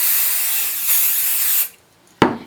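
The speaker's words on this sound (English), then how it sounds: "I'm going to take my favorite basting spray. I like 505" 505 basting spray hisses onto quilt batting in a loud continuous aerosol burst lasting over a second, followed by silence and one short sharp spray puff.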